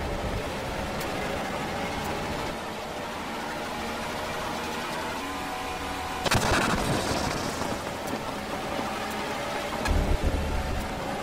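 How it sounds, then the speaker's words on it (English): Race car engines at the IMSA WeatherTech Sportscar Championship round at Watkins Glen give a continuous roar, with a louder car surging past midway and a deeper rumble near the end, and nobody speaks. "So take some time, just listen to the engines."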